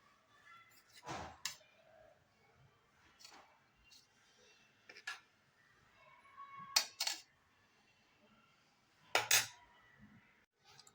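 Metal utensils clink and scrape against a plate as rice is served alongside whole masoor dal, a few distinct taps and clatters spread apart in a quiet kitchen.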